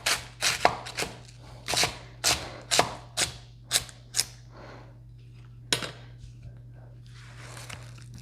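A kitchen knife shreds food into very thin slices on a cutting board, a quick run of about ten crisp chopping strokes followed by a pause and a few scattered cuts, close and clear over a low background hum.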